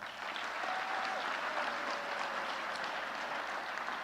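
Steady applause from an audience at a high school signing ceremony, a dense even wash of clapping that holds for the whole stretch, with a few faint voices mixed in.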